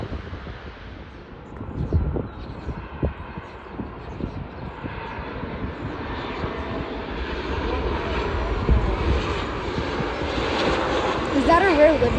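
A airliner in a rare oneworld alliance livery passes overhead at a plane spotting session, its jet roar building steadily from moderate to loud over gusty wind noise on the microphone, with brief voices early on.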